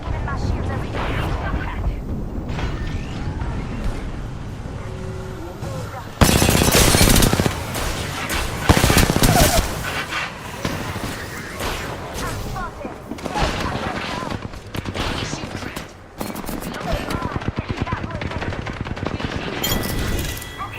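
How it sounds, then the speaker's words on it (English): Rapid automatic gunfire and overlapping bursts in the battle royale game Apex Legends, dense and loud throughout, with heavier volleys around the middle and continuous action behind it. "Listen up, I'm getting shot at."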